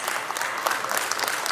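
An audience at a formal ceremony gives steady, even applause for the guest of honor, a brief continuous wash of clapping with no talk over it.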